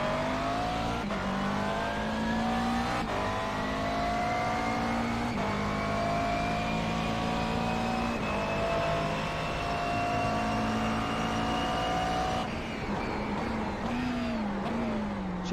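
Race car engine in a racing video game holds a steady high drone with harmonic lines sliding up and down through gear changes, loud and continuous, with a brief dip near the end.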